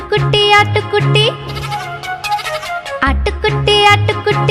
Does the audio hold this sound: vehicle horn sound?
no